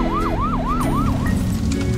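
A wailing fire truck siren from a children's fire tanker construction game sweeps up and down in four quick, loud cycles over a steady low engine drone, then gives way to a continuous hum.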